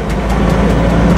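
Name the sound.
hybrid RV engine accelerating to overtake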